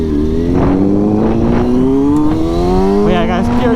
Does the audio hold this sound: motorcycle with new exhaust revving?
yes